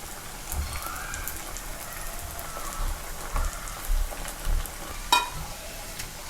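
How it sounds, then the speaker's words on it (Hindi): Palak bread cutlets fry in hot oil with a dense, rain-like crackle, punctuated by a few soft knocks and a sharp clink as they are turned, close and without voices. "इसे हम उलटते पलटते हुए पूरी तरह से फ्राई कर लेंगे"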